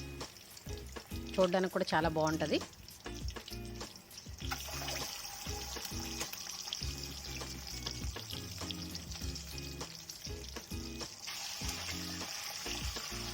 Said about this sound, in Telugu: కోడిగుడ్లు బాగా వేయించుకోవాలండి.